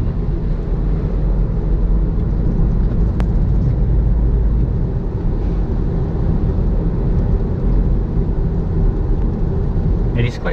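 A SEAT Arona FR engine pulls in eco mode at about three-quarter throttle on a wet road, a steady low drone mixed with road and tire hiss that stays even throughout, with someone talking over it.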